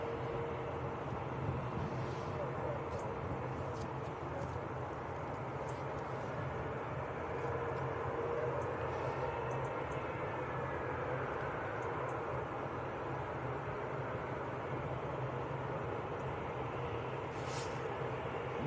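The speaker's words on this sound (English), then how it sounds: "Air Portugal taxiing out now behind the Emirates" An Air Portugal airliner taxiing at Manchester Airport, a steady distant jet engine drone and whine holding evenly throughout with slight rising tones, heard outdoors from afar.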